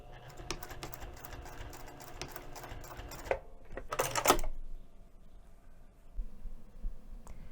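A sewing machine stitches a wrist strap tab onto a fabric pouch, giving a close, rapid mechanical patter for a few seconds that then slows and stops, followed by faint handling sounds.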